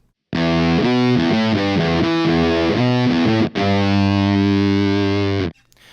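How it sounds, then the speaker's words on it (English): Electric guitar through a Poison Noises Gluttonous Maximus fuzz pedal with all controls at noon, thick buzzy distorted riffs played loud and close, then a sustained fuzzy chord ringing out before cutting off. "here's the sound of the pedal with all the controls set to noon."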